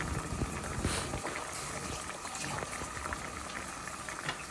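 Filipino vegetable broth for Ilocano dinengdeng bubbling in a pot, a steady close rolling boil with popping and gurgling throughout, no talking.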